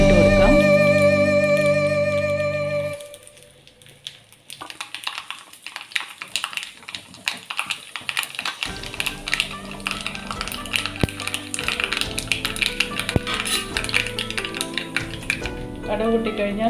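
After a short musical intro fades, mustard seeds and a pinch of fenugreek splutter in hot oil for sambar. Scattered sharp pops and crackles come close and irregular, growing busier toward the end.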